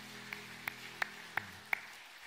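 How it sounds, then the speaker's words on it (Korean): A church congregation at a Sunday worship service claps in unison, five evenly spaced sharp claps at a steady beat, fairly faint with a low hum beneath. "우리 박수로 영광 올려드리겠습니다."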